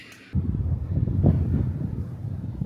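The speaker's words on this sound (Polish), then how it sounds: "Jeszcze wiatr zawiewa w twarz." Wind suddenly gusts in after a brief moment and blows steadily against the microphone as a deep, continuous rumble, while cycling uphill in northern Japan.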